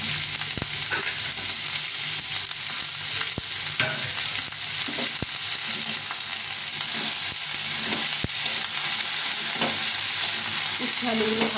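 Bitter gourd and potato pieces with onion fry in an oil-filled pan for a Bengali fish curry, a steady close sizzle broken by the sharp scrape and clack of a spatula stirring at irregular intervals, with no talking.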